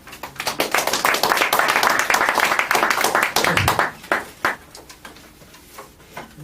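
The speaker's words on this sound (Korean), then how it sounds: "나오실 때 박수로 맞이해 주시기 바랍니다" An audience at a lecture hall applauds to welcome a speaker, a burst of clapping that swells, holds for a few seconds, then tapers into scattered claps and quiet room noise.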